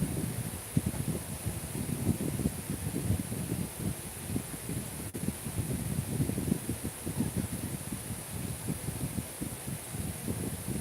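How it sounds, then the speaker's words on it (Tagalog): Wind blows steadily against the microphone in rough, fluttering gusts, with a constant high hiss in the background. "Hangin ra Jules"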